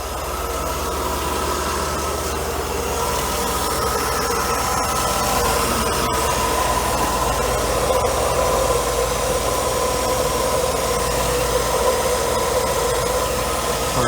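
A Mercedes W124 engine idles steadily nearby while the throttle is nudged slightly, a continuous mechanical hum with broadband hiss and no clear rev surge.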